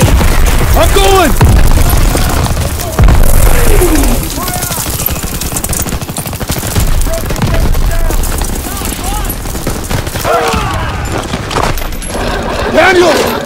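Gunfire in the World War II shooter Call of Duty WW2, with loud bursts of rifle and machine-gun fire and booming blasts going on throughout while soldiers shout orders over the battle.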